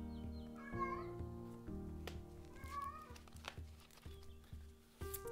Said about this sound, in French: Impressionnant le miaulement